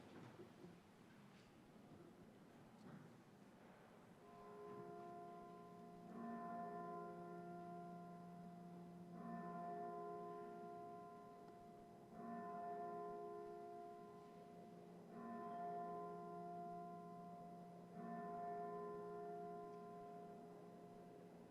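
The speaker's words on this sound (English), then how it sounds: "The Senate will observe a moment of silence and the chimes will ring" Senate chamber chimes ring out for a moment of silence, a series of about six sustained, resonant tonal strikes spaced roughly three seconds apart, each decaying slowly in an otherwise quiet room.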